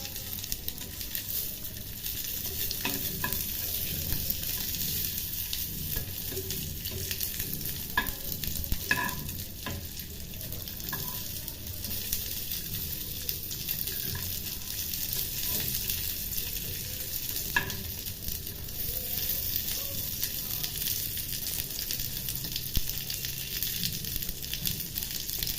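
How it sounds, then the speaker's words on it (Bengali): Hilsa fish frying in hot mustard oil and being turned in the pan give a steady, crackling sizzle with occasional stirring scrapes, close and continuous, with no talking. "সর্ষের তেলটা গরম হয়ে আসলে আমি ইলিশ মাছগুলোকে খুব ভালো করে ভেজে নেব।"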